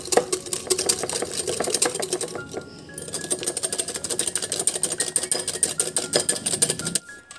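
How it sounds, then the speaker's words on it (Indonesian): Rapid, steady clinking of a whisk beating eggs and sugar by hand in a bowl, close by, with a brief pause partway through before the beating resumes. "Selanjutnya kita akan kocok hingga gula larut."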